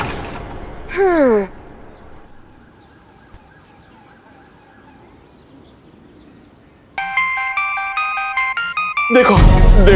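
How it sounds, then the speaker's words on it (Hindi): A mobile phone ringtone plays loud and close as a repeating melodic electronic tune, starting partway through after a quieter stretch, with voices briefly heard at the start and end. "हमारी मैडम का फोन बज रहा है।"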